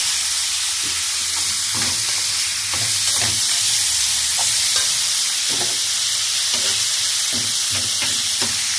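Sliced onions, colored peppers and tomato slices fry for chicken shawarma, a loud constant sizzle with repeated soft stirring scrapes and taps in a close pan. No one talks.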